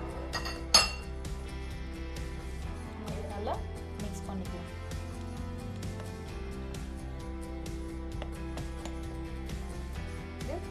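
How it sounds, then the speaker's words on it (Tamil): Cocoa and flour powder whisked into egg and milk for a chocolate cake, repeated light clinks of a spoon against a bowl over a low steady hum, with one sharper knock early on. "இப்போ இந்த எக் அண்ட் மில்க்குள்ள நம்ம கலந்து வச்ச அந்த பவுடரை கொஞ்சம் கொஞ்சமாக ஆட் பண்ணிக்கோங்க. நல்லா கலந்து விட்டுக்கோங்க."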